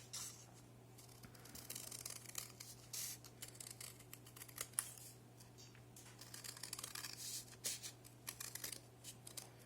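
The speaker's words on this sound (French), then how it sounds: "Et ensuite, je coupe." Scissors snip through a paper strip cut into hinges for a scrapbook album page, a run of quiet crisp cuts and rustles close by over a steady low hum, with no talking.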